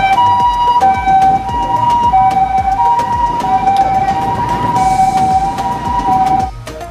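An electronic toy ambulance siren wails in a steady two-tone pattern, loud and close, with a faint clatter underneath before it cuts off near the end.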